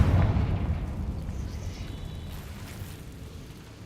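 A Confringo fire-blast spell exploding in Hogwarts Legacy, one loud, deep boom that rolls off into a long fading rumble, heard alone without voices.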